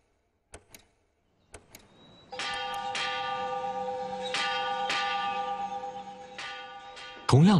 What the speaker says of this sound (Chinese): 同样的钟声已经在厦门大学的校园里回响了97年